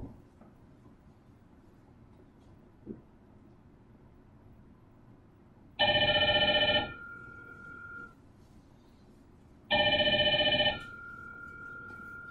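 A Hikvision modular intercom call rings out in two loud electronic bursts several seconds apart, each a buzzing, bell-like tone with a fainter chime trailing after it, over low background hum.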